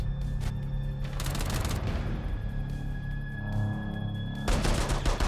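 Rapid gunfire bursts in the tactical shooter Rainbow Six Siege, loud and dense, with sustained automatic shooting, a short lull, then another heavy burst near the end.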